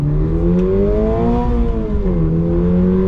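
A 2024 Toyota GR86's engine revs loudly and smoothly, its tone rising, dipping and climbing again in a continuous close-up drone with no talking over it.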